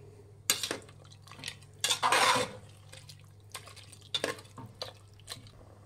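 A spoon stirs fried tomato masala in a cooking pan, with several sharp scraping clinks, a short loud burst of stirring about midway and a few more clinks near the end.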